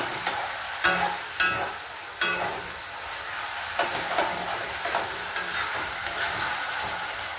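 Potatoes fry in a generous amount of oil in a pan for chowmein, a steady close sizzle broken by several sharp clacks and scrapes of a spatula, with no speech.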